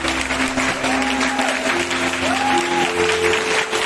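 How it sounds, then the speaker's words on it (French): A church congregation claps together in sustained, dense applause, a steady wash of hands heard close, with a faint sustained tone drifting underneath. "On donne une acclamation"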